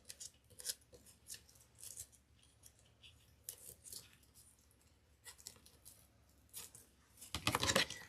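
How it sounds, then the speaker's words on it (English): Scissors snip a fuzzy chenille stem to trim off excess while shaping a craft bunny wreath, a series of close, quiet, crisp cuts spaced irregularly, ending with a quick cluster of louder snips. "we're going to trim off any excess piece."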